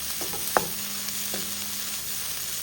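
A ground paste goes into a curry frying in a pan, with one sharp clink of a utensil and then a steady sizzle close by, with no speech.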